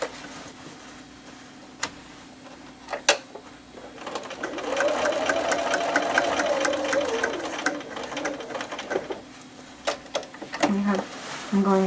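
A sewing machine stitches across the top of a simple flat-bottomed fabric tote bag, its steady whirring run building through the middle before easing off, with a few clicks and handling sounds around it.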